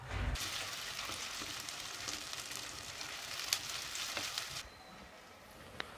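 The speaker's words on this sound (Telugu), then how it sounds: "ఇప్పుడు ఇందులోకి 2 మీడియం సైజ్ ఆనియన్లు ఇలా ఈ సైజులో చాప్ చేసుకుని వేస్తున్నాను" Two chopped medium onions drop into hot oil for vankaya pulusu cooked in a clay pot, and a steady, close hiss of frying starts abruptly and runs with small crackles, then eases lower near the end.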